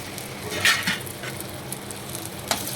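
Chopped onion and green chillies fry in hot oil in a home kitchen pan, giving a steady close sizzle with a few soft stirring scrapes and pops and no voices.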